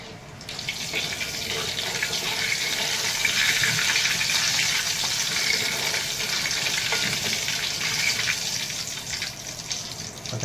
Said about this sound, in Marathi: आता आपण पॅनमध्ये तेल ओतूया. जिरा फ्राय करून घेऊया.